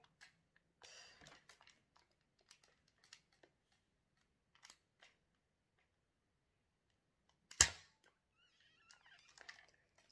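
A cheap toy gun, costing around four quid, fires with one sharp, loud snap close by. Faint clicks and handling noises come before and after the shot.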